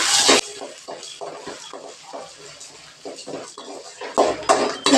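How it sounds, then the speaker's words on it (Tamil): Dry chillies, garlic cloves and peanuts are roasted in a pan without oil, heard as a series of intermittent scraping and rattling strokes from stirring, loudest at the start and end. "இது அஞ்சு மிளகா ஒரு அஞ்சாறு கல் பூண்டு ஒரு ஐம்பது கிராம் அளவுக்கு வேர்க்கடலை எல்லாம் போட்டு நல்லா வறுத்துக்கலாம்"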